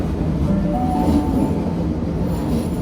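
An all-stations train to Ashfield rumbles steadily close by as it arrives at the platform, a continuous low roar and faint squealing wheels, no voices.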